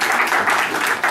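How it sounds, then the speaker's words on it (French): Audience applause for an honoured writer at a tribute event, a short burst of dense, pulsing clapping from a close crowd, steady and fairly loud for about a second. "Je vous prie de vous lever et l'applaudir."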